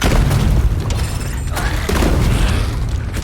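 A fire tool blasts in the video game Revenge of the Savage Planet, a loud, continuous roaring rush with deep booming bursts sustained throughout.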